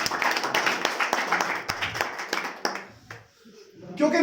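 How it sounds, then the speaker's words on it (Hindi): Audience clapping in a hall at a network marketing session, a dense burst of claps close by that thins and fades out, then picks up again at the end, with voices mixed in. "इन दोनों के लिए जोरदार तालियां।"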